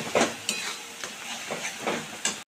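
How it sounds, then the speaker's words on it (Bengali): Spice masala with chili powder being fried down in oil for a Bengali fish curry, a continuous sizzle broken by rhythmic scraping strokes of a spatula about every half second. "এবার আমি মশলাটাকে ভালোভাবে কষিয়ে নেব।"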